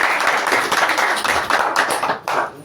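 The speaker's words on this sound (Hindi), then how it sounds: "जोर से ताली बजाइए" A church congregation at a Hindi Christian service claps loudly together, a dense continuous burst of many hands that briefly dips near the end and then resumes.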